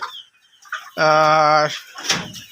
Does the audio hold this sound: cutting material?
no